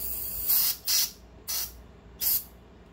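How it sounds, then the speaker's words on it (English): Four short hissing bursts of brake cleaner sprayed from an aerosol can, close and fairly loud with brief pauses between them, used while reassembling a Rolls-Royce brake accumulator. "I'm going to hit it with a little bit of brake cleaner."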